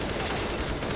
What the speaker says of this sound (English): He'll close the door, line up the wall bang.